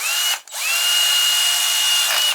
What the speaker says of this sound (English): I'm gonna drill a hole in this thing.